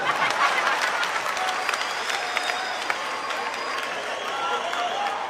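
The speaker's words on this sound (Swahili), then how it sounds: "Makofi kwa nchi yetu." Steady audience applause with cheering fills a comedy show hall in Tanzania, dense and sustained throughout, with a faint voice or two underneath.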